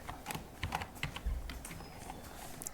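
Quick bursts of clicking keystrokes on a computer keyboard, typing a short word close by in an uneven rhythm, nobody speaking.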